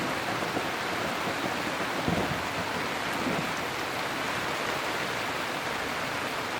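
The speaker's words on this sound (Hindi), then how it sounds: "बारिश रुकने का नाम नहीं ले रही है, बट थोड़ी हल्की हो गई है" Steady heavy rain hissing down onto Dal Lake in Kashmir during a boat ride, a dense continuous wash of noise with a faint low rumble partway through.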